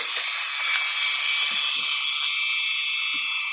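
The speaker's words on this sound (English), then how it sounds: "So I'm going to use the Dremel, and we're going to work on that." A Dremel rotary tool carves bonsai wood, its steady high-pitched whine running loud and continuous, with a few brief low bumps as the bit catches the workpiece.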